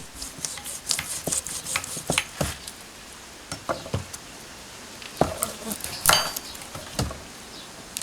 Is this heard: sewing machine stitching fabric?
no